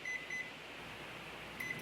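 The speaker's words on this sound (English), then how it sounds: "So in the microwave, I'm going to put it on for 4 minutes." Short electronic beeps from a microwave oven as its timer is keyed in, two quick beeps near the start and another near the end over a steady low room hum.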